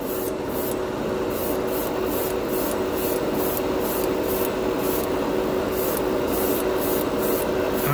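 Tamiya Mica Silver spray paint hissing from an aerosol can in a steady, continuous spray lasting the whole stretch, close and fairly loud, with faint rhythmic pulses on top.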